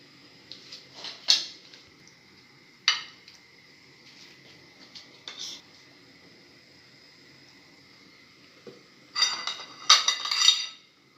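Utensils clink against a dish while lasagne ingredients with red cheese are mixed, with sparse scattered scrapes and taps, then a denser burst of clinking near the end.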